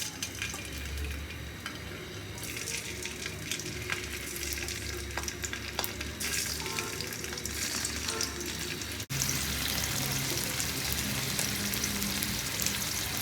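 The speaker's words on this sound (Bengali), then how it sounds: "এখন চিংড়ি মাছগুলো ভালো করে ভেজে নিচ্ছি" Galda prawns frying in a little oil, with a dense, steady crackling sizzle close by, mixed with scraping stir strokes and light clatter of the pan, and a brief break before the frying resumes with no speech.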